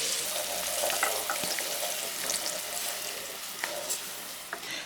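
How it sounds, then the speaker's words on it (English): Ingredients for Nigerian Chinese fried rice fry in a hot pan, giving off a steady, close sizzle with occasional crackles and pops and no talking. "Now I'll just let this all simmer, let it fry."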